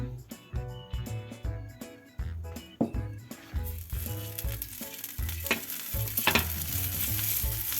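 A thin film of oil sizzles in a pan heating up for pancakes, a steady hiss that swells in the second half beneath rhythmic background music, with no one speaking.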